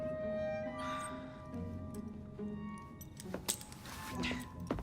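Keys jangling and clinking in the video game Assassin's Creed Syndicate, a close metallic rattle that builds into sharper clinks near the end, with faint game ambience underneath.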